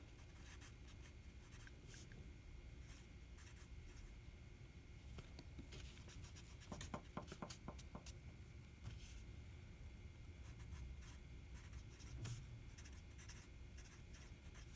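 Faint scratching of writing on a board in a respiratory-system lesson, with quick irregular strokes and taps over a low room hum, no talking heard.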